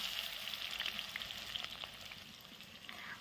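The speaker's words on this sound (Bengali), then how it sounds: "ফোড়নগুলো হয়ে যাওয়ার পর এর মধ্যে পেঁয়াজ কুচানো দিয়ে দিলাম" Chopped onion hits hot oil tempered with cinnamon, cloves, cardamom and dried chili for a chicken kosha, giving a steady close sizzle with faint crackles and occasional stirring.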